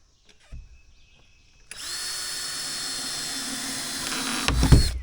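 A power drill drives a screw into a tractor being modified, with a steady high whine running about three seconds and ending in a louder grinding burst as the bit strikes a screw head.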